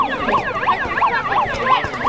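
A wailing siren switched on during a city council protest, its pitch sweeping up and down in quick repeated cycles, loud and steady over a murmur of background noise.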